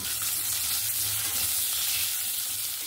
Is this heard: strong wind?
no